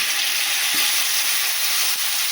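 Green chilli paste frying in a pan, a steady bright sizzling hiss that carries on evenly, with a couple of faint clinks and no talking.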